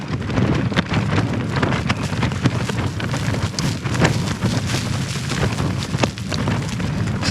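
Strong wind buffeting a tent during winter camping in snow, a steady loud roar with gusty rumbling and flapping, continuous for the whole stretch with no talking.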